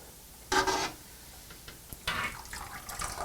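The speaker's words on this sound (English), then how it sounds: "I'm just going to try to get these out with a spoon here." A spoon lifts steeping grain bags out of hot liquid in a home-brewing pot for an English porter, giving two bursts of dripping, splashing water about a second apart, close and moderately loud.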